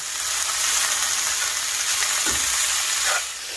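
Onions sauteing in a hot pan, giving a steady loud sizzle, with a brief stir or pan knock midway and the frying hiss continuing to the end.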